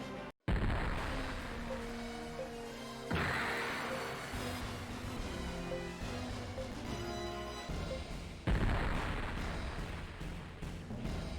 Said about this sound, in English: All of these ships got some freaking particle beam cannons.